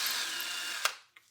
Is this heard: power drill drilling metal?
yes